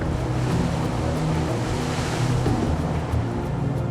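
Ocean waves on a dangerous stretch of open sea roar steadily with wind. The broad, dense wash of surf stays loud and continuous throughout, with no voices.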